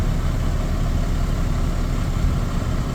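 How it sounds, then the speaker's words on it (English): A truck engine idling with a deep, uneven low rumble that chugs steadily and close by, strained and close to stalling as the clutch is let out. "You hear the engine that wants to stall?"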